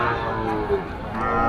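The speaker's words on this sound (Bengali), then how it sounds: "মাশাআল্লাহ, অনেক সুন্দর একটা বাছুর" A calf lows once, close by, amid the general bustle of a cattle market, with no clear talk over it.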